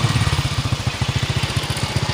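A motorcycle engine runs steadily nearby with a rapid, even low thump, loud and continuous with no voices.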